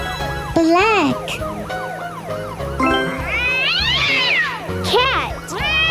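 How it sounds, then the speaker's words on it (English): A cat meows several times over bright, sweeping musical tones, with rising and falling calls loud and close throughout. "Cat."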